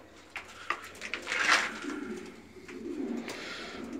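A small pigeon chick of a Bulgarian pigeon breed coos softly and close by, in a few short murmuring calls over a quiet background.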